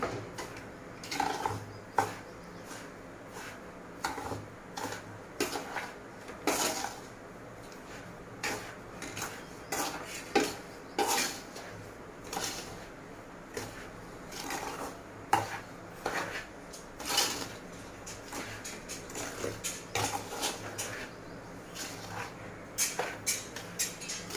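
Sugar and cardamom powder get stirred into semolina in a pan, with a spoon scraping and clinking against the metal in irregular bursts over a quiet background, no talking.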